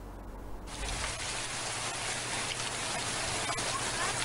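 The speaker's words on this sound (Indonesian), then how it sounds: "hujan gede anu ngecerek teh lain ukur di Barung Angin anu ngagelebug, tapi di papayasan ku fenomena hujan es" Heavy rain with hail pours down as a dense, continuous hiss of drops striking surfaces, swelling after a brief quieter start and staying steady and close.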